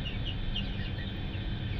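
Ten backyard chickens cluck softly and steadily at a distance, their short calls scattered over a constant low rumble of background noise with no talking.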